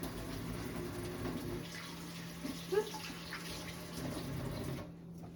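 Hands are washed under a running tap, a steady low rush of water with a brief splash midway, nearby and fairly quiet, cutting off at the end.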